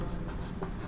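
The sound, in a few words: writing an equation on a board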